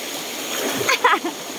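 Water splashing as someone wades across a river in Bicol, short sloshing bursts over a steady flowing-water background, close by.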